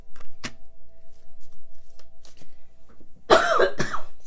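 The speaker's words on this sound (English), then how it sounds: "I didn't even mean to cough" A person coughs once sharply near the mic, then gives a longer harsher cough that trails off. Faint soft tapping and handling noises sit quietly in the background before the coughs.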